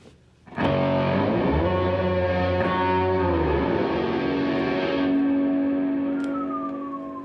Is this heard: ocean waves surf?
no